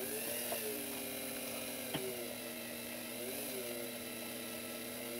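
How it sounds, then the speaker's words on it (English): A small drill bores into the pivot of an Ansonia time-and-strike clock, giving a faint, steady, even whir with one brief click partway through. "And keep drilling until you get the acquired depth that you need."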